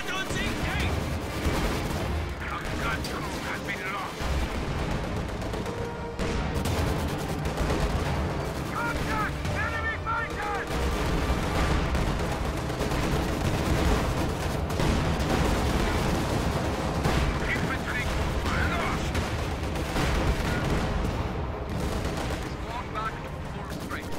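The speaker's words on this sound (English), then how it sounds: "Scavenge artillery being dropped on the field guns to force those to reposition." Dense artillery barrages and rolling gunfire fill a World War II strategy game battle with Panzer IVs, T-34s and field guns, loud and continuous throughout with overlapping blasts.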